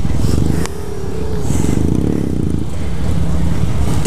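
A 2015 Yamaha FZ-07 motorcycle rides off, its engine note steady and loud with a rising rev partway through, close by at first.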